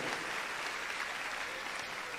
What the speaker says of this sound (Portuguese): Pode aplaudir essa obra que o Senhor realiza.